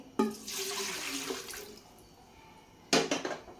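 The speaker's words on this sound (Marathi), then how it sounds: "ह्यामध्ये आपल्याला पाणी टाकून घ्यायचंय।" Water poured from a tap or jug into a metal idli steamer pot, two separate gushing pours, the first longer and the second a brief splash, close and clear.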